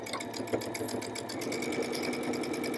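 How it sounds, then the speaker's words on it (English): A sewing machine runs steadily, stitching across a marked line on a quilted fabric bag, with a fast continuous mechanical whir and needle rattle close by. "then we're going to stitch right on our marked line"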